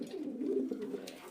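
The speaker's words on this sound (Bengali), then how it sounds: "এই নটটা হলো নিজে বিদেশি কবুতর, লুইস তিনশন, সরাসরি বিদেশি কবুতর এটা।" An imported racing pigeon gives one low, throaty coo that rolls on for over a second, close by and fairly clear.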